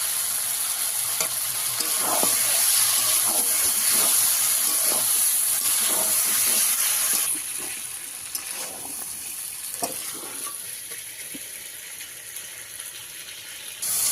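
Fish fat sizzling in a hot pan while a fish kosha is cooked, a steady loud frying hiss with scattered crackles and pops. The hiss eases partway through and carries on a little quieter.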